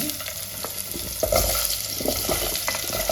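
Pumpkin pieces fry in hot oil in a pan with a steady sizzle, broken by scraping stir strokes and a few brief knocks, close up and with no talking.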